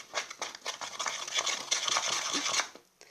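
Cornstarch and detergent slime mixed by hand in a glass, with a steady wet squelching and scraping that keeps going for a few seconds and then stops.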